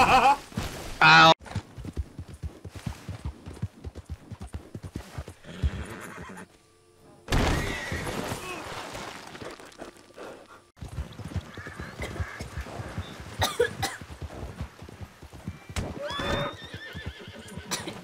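A horse in the video game Red Dead neighs loudly near the start, followed by hooves clip-clopping and shuffling, with brief pauses and faint background noise.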